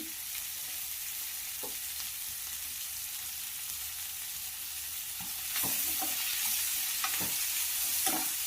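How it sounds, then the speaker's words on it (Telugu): Onions and garlic cloves frying in a pan for Andhra-style tomato gojju hiss steadily, then the sizzle grows louder partway through as a utensil scrapes and clinks against the pan a few times. "ఇలా ఆనియన్స్ ఫ్రై అయిన తర్వాత వెల్లుల్లి రెబ్బలు ఇందులోకి వేసుకోవాలి."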